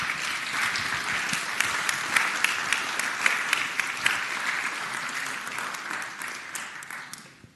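Sustained applause fills the Virginia Senate chamber as senators welcome guests, a steady wash of many hands clapping that holds strong for several seconds, then fades out near the end.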